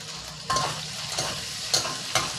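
Garlic and naem (Thai fermented pork) being stir-fried in hot vegetable oil in a pan: a steady close sizzle with periodic scraping stirs roughly every half second, and no talking.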